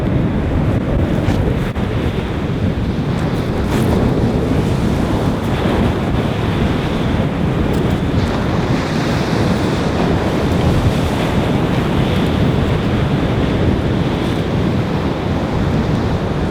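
Strong wind of about 40 miles per hour buffets the microphone in a loud, constant roar on the coast at Fleetwood, with the wash of sea waves underneath.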